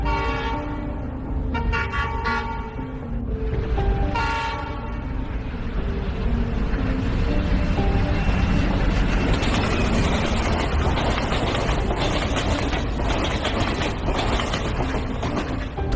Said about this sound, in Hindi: गुल्ली बुल्ली और सोन को ट्रेन की आवाज सुनाई देने लग जाती है